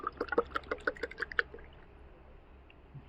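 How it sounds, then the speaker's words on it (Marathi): Water pours into a glass of kokum sherbet made with cumin, producing a quick burst of bubbling, glugging splashes for about a second and a half before trailing off into quiet, with no talking. "जिरं वगैरे टाकून झाल्यावर त्याच्यामध्ये थोडंसं पाणी टाकायचं."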